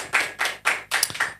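Slow, sparse clapping from an audience at a talk, about five separate flat slapping bursts in an uneven rhythm, close and fairly loud with no voices.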